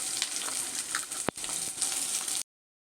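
A cut large onion hisses and crackles in hot oil, a steady close sizzle with one sharp clack midway before cutting off abruptly into silence.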